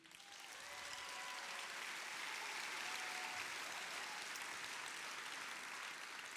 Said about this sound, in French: Merci du fond du cœur de les applaudir.